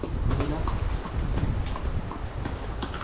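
Horse hooves clip-clop steadily on the ground in a town in Majayjay, a continuous close trotting rhythm that runs under people talking throughout.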